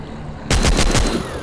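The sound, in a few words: machine gun firing in mobile zombie video game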